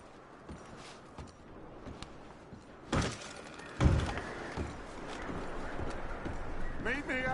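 Horses in Red Dead Redemption II give a soft clip-clop of hooves with scattered thuds and bumps, moderately near, under ongoing talk and ambient game noise.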